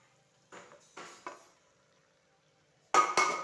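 Spoon scrapes and stirs crushed chicken into chicken samosa filling in a pan: three short scraping strokes, a pause, then two louder, closer scrapes.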